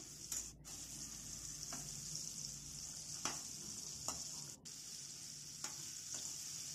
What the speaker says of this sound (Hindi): इसको हम मीडियम लो फ्लेम पे फ्राई करेंगे पलट देंगे इसको हम